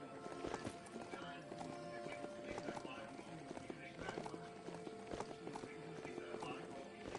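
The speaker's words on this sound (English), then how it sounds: "Oh, that's you. My horse." Horse hooves in the video game Biomutant, clip-clopping in a quick steady rhythm with occasional whinnies, under game sounds and someone talking.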